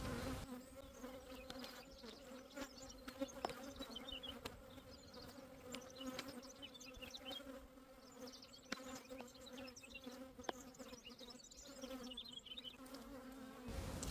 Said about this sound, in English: I can tell that the bees are getting agitated that I'm taking too long